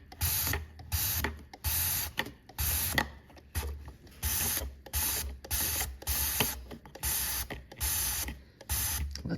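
Power wash cleaner sprayed in repeated bursts into a truck engine bay, a steady hiss of about nine pulses with short pauses between them, loud and close.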